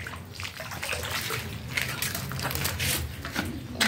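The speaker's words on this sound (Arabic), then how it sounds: "هزود بس ميه في البرام هنا عشان الصغيرين." Water is poured into a container for rabbits, a steady splashing and sloshing that runs close and fairly loud for the whole stretch, with crinkly handling noises mixed in.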